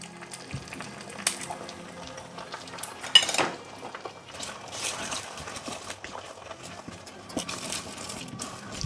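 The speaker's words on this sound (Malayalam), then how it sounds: "ഇപ്പോൾ തൽക്കാലം ഞാൻ എഗ്ഗ് മാത്രമേ ഇടുന്നുള്ളൂ." An egg goes into a pan for fried rice and is stirred with a utensil, giving quiet intermittent scrapes, clinks and light sizzling with a few sharper knocks.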